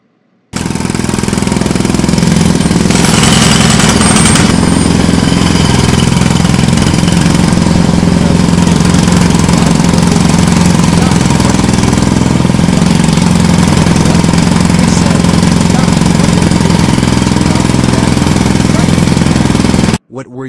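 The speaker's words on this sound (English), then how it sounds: "I'm going to use a jackhammer in the library." A loud, continuous jackhammer-like mechanical rattle pounds steadily for about twenty seconds inside a library, running close and unbroken before cutting off abruptly.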